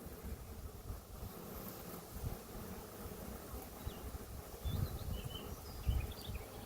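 A faint, steady buzz of honey bees at an open hive drones under wind noise and rumbly handling sounds close to the microphone.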